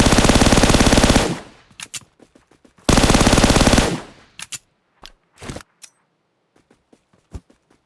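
Bursts of M4 and Bizon gunfire in a shooter video game: two long loud sustained automatic volleys, followed by scattered shorter shots and single cracks fading toward the end.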